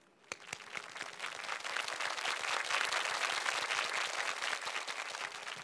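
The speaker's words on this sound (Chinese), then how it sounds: "我们掌声欢迎孙大姐" A television studio audience on a Chinese family-reunion show breaks into steady applause to welcome a guest, many hands clapping close and even, starting sharply and holding at full strength throughout.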